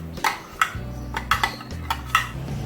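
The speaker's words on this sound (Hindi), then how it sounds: "अब हम इसमें 2 चम्मच के करीब योगर्ट ऐड करेंगे।" A spoon taps and clinks repeatedly against a cooker holding aloo baingan as spoonfuls of yogurt go in, a series of sharp, close metallic knocks over a low steady hum.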